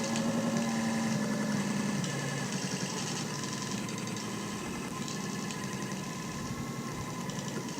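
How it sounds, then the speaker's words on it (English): Car engine sound effect samples played back on a C.H.I.P. computer, a steady synthetic rumbling drone with a faint pitched whine, continuous and fairly quiet. "It sounds like every mid-90s car engine sound effect"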